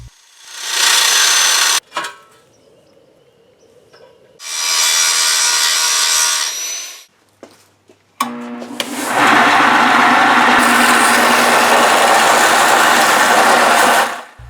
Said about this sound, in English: I used a heavy angle grinder to refine the profile